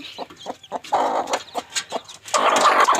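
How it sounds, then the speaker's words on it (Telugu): A hen clucks close by while eight newly hatched short-nosed long-tail chicks chirp and peep in quick, uneven bursts, with no talking. "ఎనిమిది గుడ్లు ఉన్నాయి ఎనిమిది పిల్లలు వచ్చేసాయి బయటికి"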